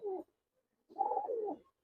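A silver pigeon cooing close by, a short soft coo followed after a pause by a longer, warbling coo.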